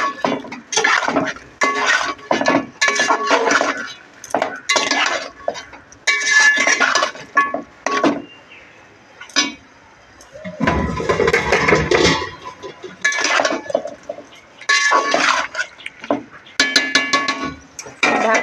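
Meat being stirred and fried with dry chili powder in a pot: repeated clanks and scrapes of a metal spoon in close, loud, rhythmic bursts, broken by a brief pause.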